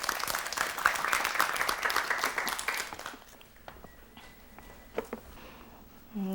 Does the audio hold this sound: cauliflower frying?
no